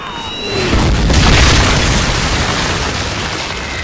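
Soviet artillery barrage from a WWII strategy video game, landing among tanks in a town centre: a loud, deep rolling explosion that swells and lingers as a continuous rumble.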